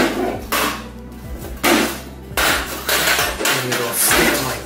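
Metal legs and panels of a folding propane camp stove with built-in ignition clank and knock as it is unfolded, several sharp impacts and rattles close by, with no talk.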